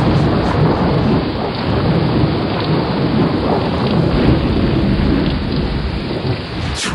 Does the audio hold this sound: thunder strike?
yes